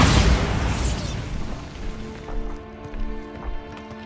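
A Bombarda blasting spell in Hogwarts Legacy detonates with a loud, close burst and rumbling boom that decays into scattered crackling debris and a soft tonal game score, no talk.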